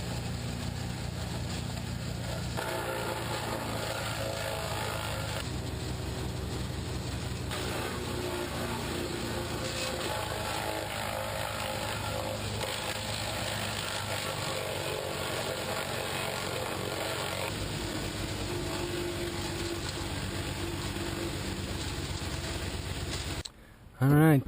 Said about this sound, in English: got the wood chipper here today, and we're gonna chip it all up